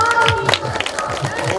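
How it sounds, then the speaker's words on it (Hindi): A crowd at a Hindu devotional jagran honouring the goddess Bhagwati claps in loud rhythmic unison, under singing and amplified music. "मैया की जोरदार ताली बजाओ।"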